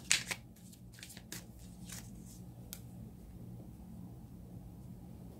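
Tarot cards are shuffled in quick, crisp riffling bursts, sharpest at the start and then a few lighter flicks, close and fairly quiet with a soft background hum.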